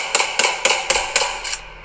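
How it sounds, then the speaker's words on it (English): Six sharp cracks ring out at a steady pace, each bright and snappy, fairly close and loud with no voices. "Gunshot."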